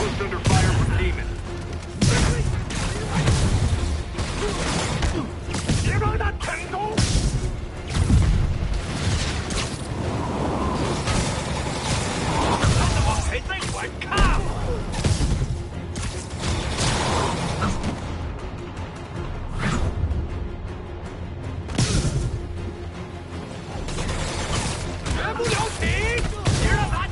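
Gunfire and explosions crackle and boom through a fight against demons at a rooftop outpost in Koreatown in Marvel's Spider-Man Remastered on PS5, dense bursts layered with music and spoken radio dialogue throughout.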